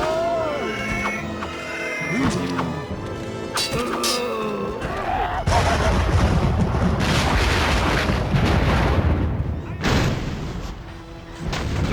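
Heavy booming gunfire rings out during shooting practice in a video game, with dense, loud blasts that follow earlier stretches of game voice and music.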